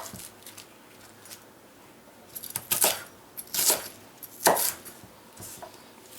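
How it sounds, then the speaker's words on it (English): A knife cuts napa cabbage into strips on a board, giving a run of crisp chopping knocks that starts soft and grows into several sharper, louder strokes with short pauses between them. "Going to cut these into like strips."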